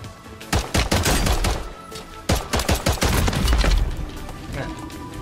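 Sharp, loud gunshots from snipers in a Call of Duty match, arriving in clustered volleys with brief gaps, some close and punchy, with a voice heard faintly in the background.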